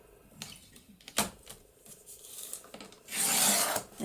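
A paper trimmer slices through coffee-dyed paper, giving a few short rasping cuts and a louder, longer scraping stroke near the end, close and alone.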